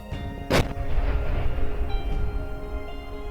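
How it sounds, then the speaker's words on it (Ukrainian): A single sharp explosive blast goes off in the Kryvyi Rih district of Ukraine, followed by a low rumbling tail that slowly fades into steady background noise. "Увага! Вибух!"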